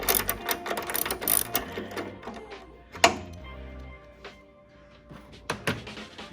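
A ratchet with a 10mm socket loosens a bolt on a Honda Civic Type R FK8, giving bursts of rapid, close clicking separated by short pauses, with a sharper knock partway through.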